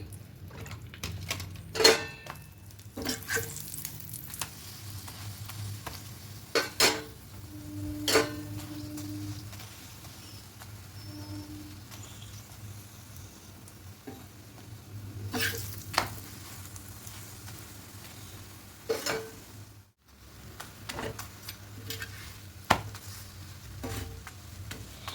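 A lachha paratha fries in oil in a pan, giving a faint, soft sizzle with scattered spatula clicks and scrapes that come and go over a quiet background.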